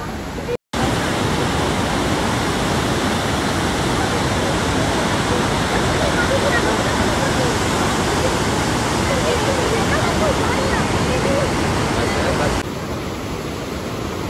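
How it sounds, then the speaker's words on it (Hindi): Fast-flowing river water rushes beneath a bridge on the road from Islamabad to Naran and Kaghan, forming a loud, dense, unbroken roar that holds steady for several seconds before easing slightly at the end. "पानी इतनी तेज़ से चल रहा है कि जहाँ पर हम खड़े हुए ये जो ब्रिज बना हुआ है ये भी हिल रहा है सारा"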